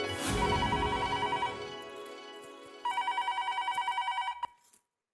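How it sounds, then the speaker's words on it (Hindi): A telephone rings indoors in an Indian sitcom household, giving a loud trilling burst followed by a second, rapidly pulsing electronic ring that stops abruptly, with no talking. "तेरा फोन आ गया"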